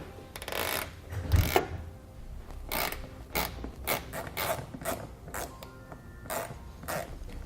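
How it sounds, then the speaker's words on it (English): A T15 Torx driver backs out wheel well fasteners on a 2018 Chevrolet Equinox, making irregular close clicks and ratcheting creaks with faint background hum and no talking. "we're going to be using that same T15 Torx driver to pull them out"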